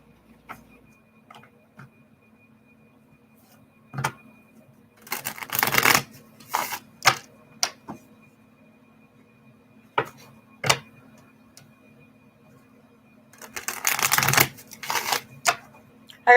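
Tarot cards being shuffled by hand, heard as bursts of riffling and tapping separated by quiet pauses, each burst close and fairly soft with no talking.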